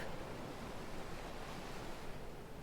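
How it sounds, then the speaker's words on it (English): Ocean waves wash ashore by the sea with a soft, continuous rushing surf, faint and distant, steady throughout with no voices. "the sound of the waves slowly soothes you to sleep"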